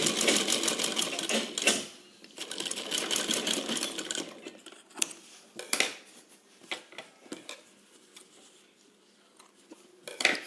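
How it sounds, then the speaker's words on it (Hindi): A sewing machine runs a top stitch along a lapped seam in rapid, buzzing bursts, stopping and restarting with faint clicks in between. "इसके बाद इस पर हम एक टॉप स्टिच डालेंगे।"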